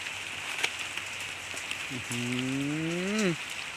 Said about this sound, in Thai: ฝนก็ลงเม็ดแล้วนะครับฝนก็ลงเม็ด